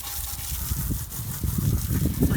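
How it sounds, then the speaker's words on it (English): Garden hose rinsing soapy water down over a car tire and into the wheel well, a steady close gush of spraying and splashing water that grows louder toward the end. "Let the soapy water just kind of come down on top of the tire."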